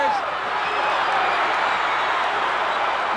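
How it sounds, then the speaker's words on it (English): Wrestling crowd at an outdoor ballpark card, a dense, continuous roar of cheering and shouting that holds steady and loud for the whole stretch, with no pauses. "Listen to that crowd"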